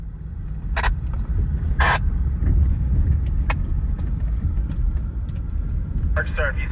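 A Honda CR-V RD1 with a 5-speed manual crosses water on a trail, bringing brief loud splash bursts over a steady, heavy rumble of engine and running water.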